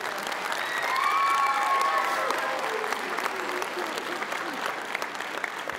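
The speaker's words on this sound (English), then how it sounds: "Yes, you should clap for that." Audience applause at a talk given at City High, a steady wash of clapping swelling early and tapering slightly, with some crowd noise and faint voices mixed in.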